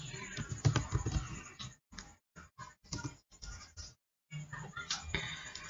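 Typing on a computer keyboard while entering the touch command in a terminal inside a Virtual Box virtual machine, rapid close clicking keystrokes in bursts separated by brief pauses.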